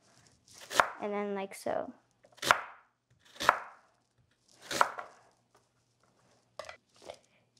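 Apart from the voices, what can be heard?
knife cutting peeled vegetable in half, then quarters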